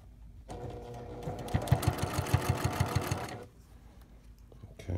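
Sewing machine stitching through a spider web quilt, a steady whirring run of several seconds with a rapid rhythmic needle chatter in the middle, stopping abruptly into a quiet room.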